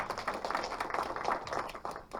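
An indoor audience at a Suwon village-making forum claps together in a dense, lively round of applause that holds steady throughout.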